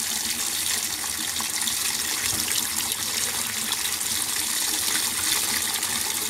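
Snails being rinsed under a running kitchen tap, with a steady, loud, close hiss of flowing water splashing continuously without pause.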